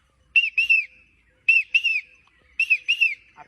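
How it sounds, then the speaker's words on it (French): Three bursts of a shrill whistle, each made of two quick trilling blasts, evenly spaced and loud against silence. "le sifflet qui est à l'intérieur, je vais siffler"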